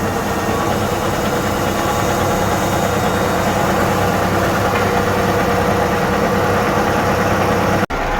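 A farm tractor's engine idles from inside the cab, a loud, steady, unbroken drone with even low vibration throughout, ending in a brief sharp click, with no talking.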